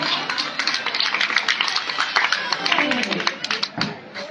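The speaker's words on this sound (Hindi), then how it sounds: "एक बार उनके लिए जोरदार तालियां हो जाए" Applause from a Ramlila audience gathered for a Lakshman–Parashuram dialogue performance in Bissau, a dense steady patter of many hands clapping throughout, with some crowd noise mixed in.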